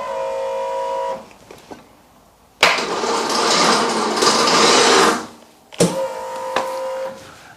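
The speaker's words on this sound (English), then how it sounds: "That starter motor is not turning the bike enough to get it started." Starter motor on a BMW R1150 GS motorcycle cranking weakly and failing to start the engine, heard in two loud bursts of labored whirring with a harsh grinding stretch between them, alone with no talk.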